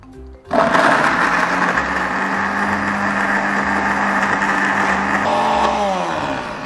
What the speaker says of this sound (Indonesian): Oke, dan aku blender pakai minyak secukupnya.